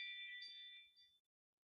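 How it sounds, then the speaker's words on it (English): A Ring video doorbell plays its motion alert chime, a single bright electronic tone that rings briefly and cuts off into silence. "motion at your Ring video doorbell"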